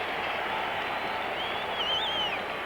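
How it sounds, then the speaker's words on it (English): A baseball stadium crowd at a 1977 NLCS playoff game in Philadelphia roaring steadily in a broad, distant wash of cheering, with a faint whistle rising near the end. "Listen to that crowd react to a high pitch"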